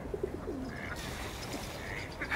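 A duck calls a few times, short nasal quacks over a busy outdoor background with other birds and distant murmur, at London Wetland Centre.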